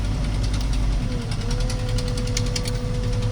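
A farm tractor's diesel engine runs steadily while hauling straw in Suphan Buri, with a low, rumbling knock and a faint whine rising partway through, close and loud.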